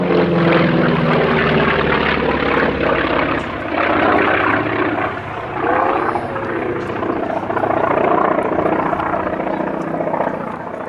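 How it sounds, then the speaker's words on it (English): A Grumman FM-2 Wildcat, built by General Motors' Eastern Aircraft Division, runs its propeller engine with a loud, continuous droning roar that swells and dips slightly, heard close and alone. "This is an FM-2 built by the Eastern Aircraft Division of General Motors."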